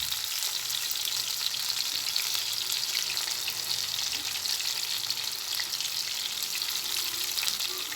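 Chicken pieces fry in hot oil for chicken kondattam, giving a continuous, fairly quiet crackling sizzle with fine popping that stays steady throughout, with no speech.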